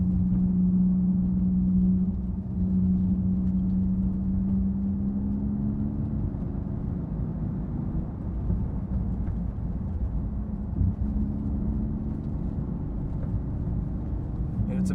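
A loud, steady engine drone with deep low rumble holds throughout, from a Porsche GT2 RS cruising at speed with an open, throaty exhaust.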